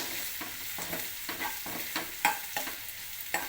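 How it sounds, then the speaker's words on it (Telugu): Ginger paste is stirred into softened frying onions, a soft steady sizzle under regular spatula scrapes and taps against the pan, close by and without speech. "ఉల్లిపాయలు కొంచెం మగ్గిన తర్వాత అల్లం పేస్ట్ వేసుకొని కలపాలి"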